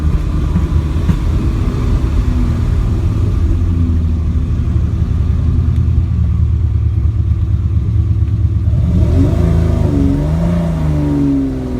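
A Ferrari 250 Lusso with a six-carburettor engine rumbles steadily while driving, heard close and loud from inside, then revs up and climbs in pitch near the end, with no talk.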